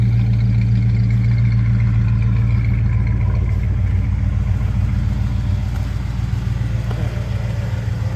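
A restored 1968 Ford Galaxie 500 engine idles steadily with a deep, even rumble, close and loud, with no talking.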